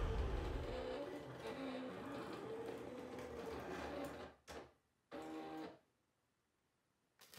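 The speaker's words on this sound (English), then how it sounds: "my SewWhat cutting machine is now cutting out my applique fabric." A SewWhat cutting machine cuts out appliqué fabric on a sticky mat, giving a steady mechanical whirring hum for about four seconds, then two short separate bursts, a pause and a final brief start.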